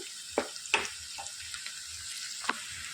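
Thinly sliced onions frying in hot oil in a pan for a bitter gourd and tomato curry: a soft continuous sizzle, broken by a few sharp crackles and spatters, close and fairly quiet, with no talking.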